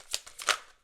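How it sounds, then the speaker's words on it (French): Tarot cards shuffled by hand: a few quick, soft riffling flicks of card stock, close and quiet, with no talk. "J'ai envie de tirer juste 2 cartes de celui-là d'abord."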